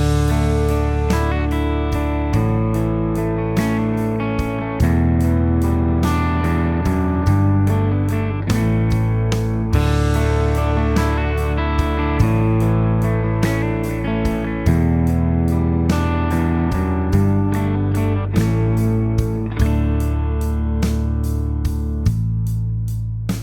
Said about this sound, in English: Let's add a bunch of open strings with the hammer-on or the pull-off technique